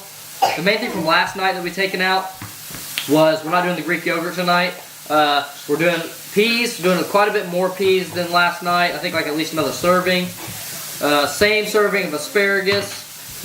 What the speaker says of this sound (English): that's the sound of my burger sizzling